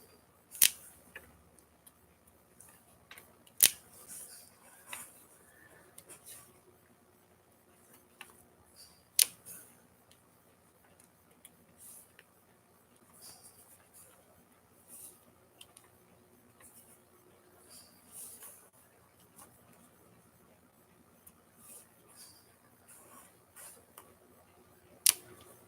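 Paper crackling and ticking during diamond painting, scattered small sharp clicks and light rustles at irregular intervals, faint and close, with quiet stretches between and no voices.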